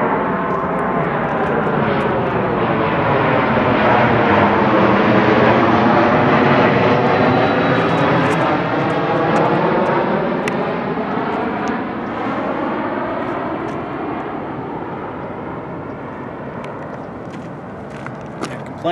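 A propeller airplane passes overhead at a desert park disc golf course, a loud, broad engine roar that swells, sweeps in pitch, then slowly fades as it moves away.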